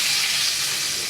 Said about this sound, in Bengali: এবার কড়াই তেলটা গরম হয়ে যায়, এর মধ্যে আমি রসুন কুচিগুলো দিয়ে দেবো